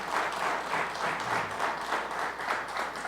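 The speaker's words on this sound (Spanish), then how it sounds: "¿Qué les parece si reconocemos su gran trabajo con un fuerte aplauso, por favor?" A church congregation applauds, steady sustained clapping from a crowd heard from a moderate distance, with no one talking over it.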